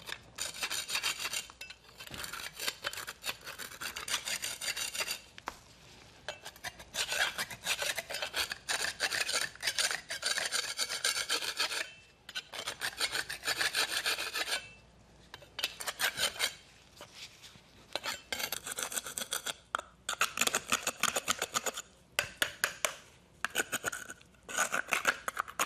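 Excess leak-repair plug is scraped off the sides of a concrete chase in a long run of close, harsh rasping strokes, in rhythmic bursts with short pauses, and no talk.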